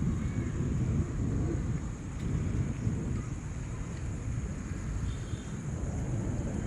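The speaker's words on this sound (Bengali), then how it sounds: "শুধু মেঘ গর্জন ছিল" Low, continuous rumbling of thunder rolls through a still pre-storm sky ahead of an approaching squall front, steady and broad without sharp claps, with a faint whistle of rising wind over it.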